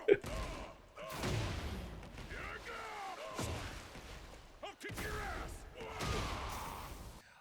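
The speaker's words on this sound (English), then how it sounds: "But I love that every time they punch, there's a huge explosion." Heavy punch impacts with explosive bursts in the Tekken 8 demo, several loud thuds and blasts spaced a few seconds apart under continuous talking.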